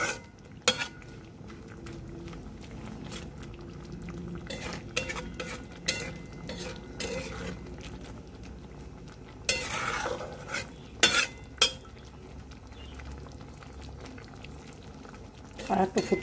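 A sour curry of fried morla fish with tomato and onion bubbles at a steady simmer in a pot, while a spoon scrapes and clinks against the pot in scattered knocks, some louder than others.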